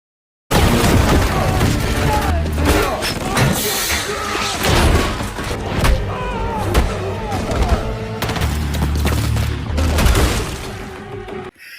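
Large-caliber gunfire in a scene from the 2022 film Samaritan: a dense stretch of loud shots, booms and impacts mixed with score and effects, near and forceful throughout.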